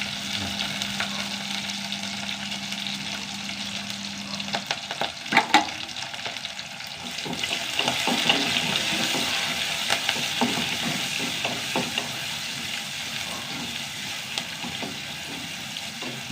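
Onions and curry leaves sautéing in a pan, a steady sizzle and frying crackle with scattered stirring clicks, close and continuous throughout, no talking.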